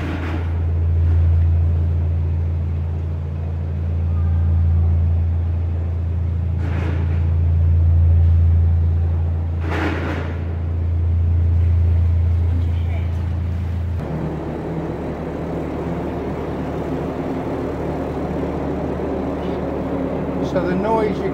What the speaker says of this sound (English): So the noise you can hear is the fans they've put on to ventilate it